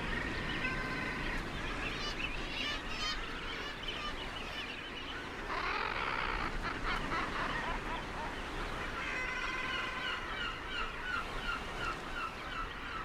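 Guillemots on a Russian sea cliff squawk defensively at a fox raiding their nest, giving repeated harsh, raspy calls in bursts over a steady wash of wind and surf.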